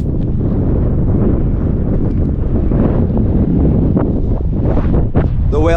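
Steady, loud wind buffeting the microphone throughout at a drift track in Ireland, a continuous low roar with gusty fluctuations.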